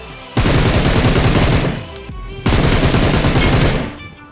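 Two long, loud bursts of rapid automatic gunfire come from a shooting video game, each lasting over a second with a brief gap between them, dense and close, with no talk.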